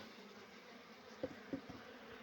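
A low, steady insect hum of many honeybees in winter, with a couple of soft thumps and bursts of buzzing near the middle as they are shaken down into a hive.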